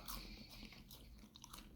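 Crunchy McDonald's french fries being bitten and chewed up close, quiet crisp crunches in a fast irregular run with no talking.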